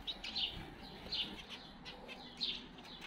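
Black Bengalese finches give soft, high chirps, about three separate calls spread over a faint background hiss at low volume.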